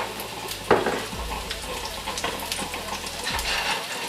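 An egg frying in olive oil in a pan, a steady sizzle throughout with a brief louder crackle near the start and faint clinks of cookware in the background.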